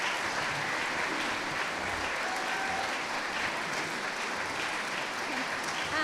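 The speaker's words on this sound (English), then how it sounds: "So you have already given them a huge round of applause, but will you do so again, please?" Sustained audience applause at a university research and innovation awards ceremony in Swansea, honouring award winners; steady, dense clapping from a large crowd throughout, fairly distant and even in level.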